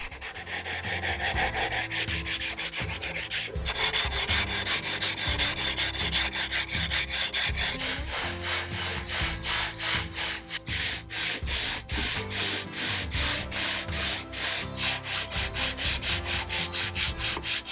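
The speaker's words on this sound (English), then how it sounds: "back to sanding, and here's a little sanding montage for you" Wood sanding rasps steadily and loudly, turning into rapid rhythmic back-and-forth strokes in the second half.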